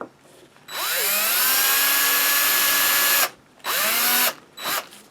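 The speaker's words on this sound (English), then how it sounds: "make sure that they rotate fully, and drill your hole through there" A power drill whines loudly and steadily for a few seconds while boring through a scale model part, then runs in two shorter bursts, spinning up and winding down each time.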